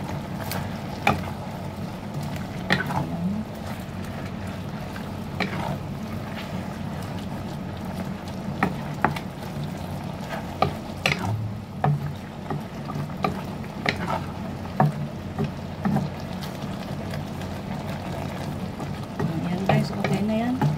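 Spinach simmers in an egg soup inside a pot, giving a low, steady bubbling with occasional clinks and stirring knocks scattered throughout, fairly quiet and with no talking.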